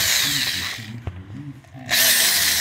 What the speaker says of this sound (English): So now I use the wire wheel on that, cleaned it up a little bit.